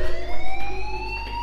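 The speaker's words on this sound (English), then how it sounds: "Hey, do you hear that fire alarm?" Fire alarm ringing in the video game Life is Strange, a steady rising electronic wail with strong harmonics that pulses loudly and continuously with no one speaking.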